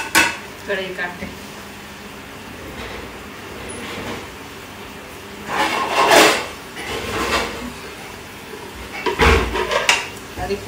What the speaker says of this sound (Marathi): कढई काढते.